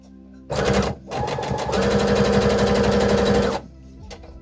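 Sewing machine stitching a 20 by 6 cm fabric band for a child's hooded pyjama, a fast mechanical rattling run with a short pause after the first burst, then a steady close stitching stretch before stopping.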